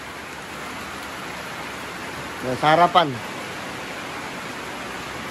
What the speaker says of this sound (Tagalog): Grabe ulan dito sa amin, guys.